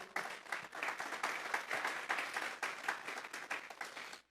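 A church congregation applauds, a fairly close, lively burst of individual hand claps that rises quickly and keeps a busy, uneven rhythm before stopping abruptly.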